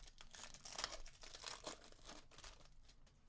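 A baseball card pack's foil wrapper is crinkled and torn open close to the microphone, quiet rustling and crackling bursts in an irregular rhythm with no talking.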